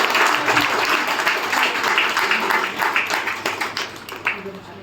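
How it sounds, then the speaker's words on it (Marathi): An audience at an awards ceremony honouring accomplished women and men breaks into sustained applause, dense overlapping clapping that holds steady and then thins into scattered claps, with some voices mixed in. "धनश्री मॅडमसाठी जोरदार टाळ्यांचा कडकडाट आपण झाला पाहिजे"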